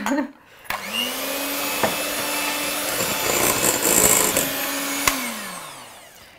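Electric mixer beating a batter of ground almond and flour in a bowl, a steady whirring motor drone that starts abruptly, runs for several seconds with some rattling, then winds down.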